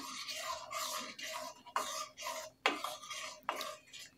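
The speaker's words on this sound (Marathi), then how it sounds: "आता ही आपल्याला ह्याच्यामध्ये छान मिक्स करून घ्यायची आहे." A spoon scrapes and swirls steadily around a vessel as ground almond and cashew powder is mixed into milk for vanilla kulfi, continuous rhythmic stirring close by with sharper knocks now and then.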